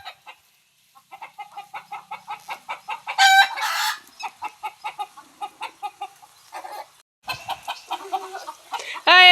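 Chickens cluck close by in quick rhythmic bursts, broken by a few sharp, shrill calls and brief pauses, with no talking.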